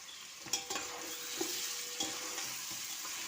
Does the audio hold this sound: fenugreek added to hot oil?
yes